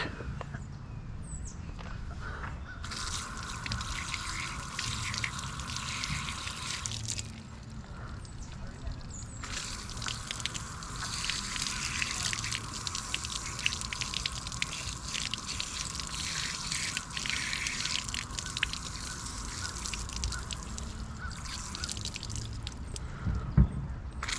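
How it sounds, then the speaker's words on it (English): Hands rinsed under running water during backyard compost work, a steady soft hiss that starts, stops briefly, then runs again for a long stretch over a quiet, low outdoor background. "Let me rinse my hands."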